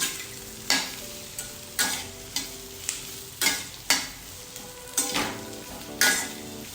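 Ivy gourd (tindora) being stirred with salt in a hot, uncovered frying pan for a Gujarati vegetable dish, with a spoon scraping through the food in a steady series of sharp strokes over a soft continuous sizzle. No talking.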